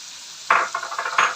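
Garlic and onion paste frying in a pan for a keema bhindi dish, short bursts of sizzling and hissing as the paste is stirred, close and fairly loud with no talking.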